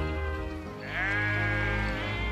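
A sheep bleats on a Central Highlands, Tasmania sheep property, one long wavering cry close by over a low steady background rumble.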